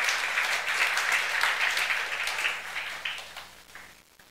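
A youth church congregation claps to God mid-sermon, a lively burst of many hands that holds strong at first and then thins out and fades toward the end.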